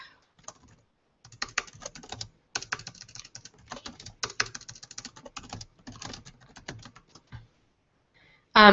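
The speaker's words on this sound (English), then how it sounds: "as I type new things" Typing on a computer keyboard while writing in Google Docs: close, rapid, irregular key clicks in short bursts with brief pauses, ending in a louder sharp noise.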